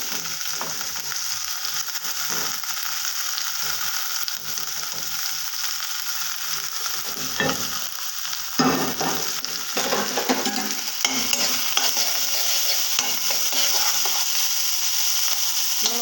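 Tomatoes frying in a pan for chickpea curry give a continuous close sizzle, broken by repeated scraping and clattering strokes as they are stirred.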